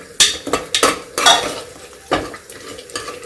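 Tomato, garlic and onion mashed in a pan with a spoon, giving irregular scraping and clinking strokes of metal against the pan, close and fairly loud, with a faint sizzle between them and no talking.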